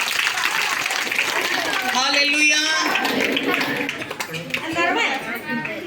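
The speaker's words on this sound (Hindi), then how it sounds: "जोर से प्रभु के लिए ताली बजाएंगे।" A church congregation claps for the Lord during a Hindi-language service, a steady wash of clapping with a preacher's voice and children's voices speaking over it.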